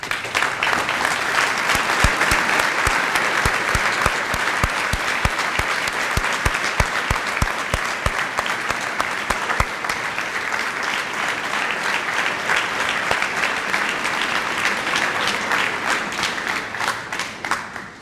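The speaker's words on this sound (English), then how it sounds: "well-deserved round of applause." Sustained, dense applause from a large graduation audience at the 2019 Lincoln High School ceremony, steady and loud for the whole stretch with no talk, easing slightly at the very end.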